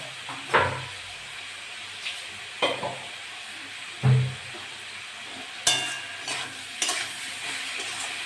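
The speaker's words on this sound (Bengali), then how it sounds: "ভালো করে কষে নেবো মশলা মশলা দিয়ে ভালো করে কষা হয়ে গেছে" Tomato and spices sauté in a pan for a ridge gourd, potato and fish chorchori, with a soft background sizzle broken by several distinct scraping stirs at irregular intervals.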